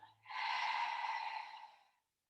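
A single long, breathy exhale through an open mouth during a yoga breathing exercise, soft and airy, lasting nearly two seconds before fading to silence.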